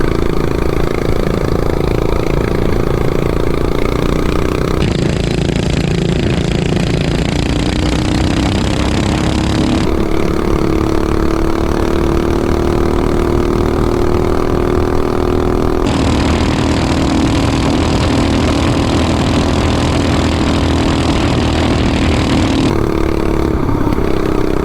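A 420cc mini bike engine runs loud and close, with a continuous rough drone whose pitch rises and falls as it is revved through the gears. No voices are heard.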